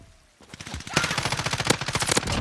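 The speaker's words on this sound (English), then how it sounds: "Taking fire." Rapid automatic gunfire in a first-person shooter game, a dense fast burst of loud close shots that starts after a short quiet moment and keeps going steadily to the end.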